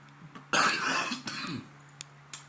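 A single harsh, throaty cough bursts out close by, followed by a few small breathy catches and clicks in an otherwise quiet room.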